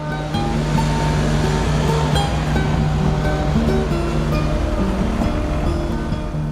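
Water pours over the medieval weir on the River Dee at Chester, built to power corn mills; a loud, steady broadband rush and roar, close and unbroken throughout, with no voices.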